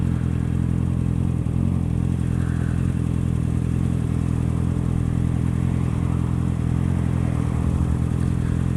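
A Honda CBR650R motorcycle engine runs close by with a steady, continuous mechanical drone that holds a fairly even level throughout, with no voices over it.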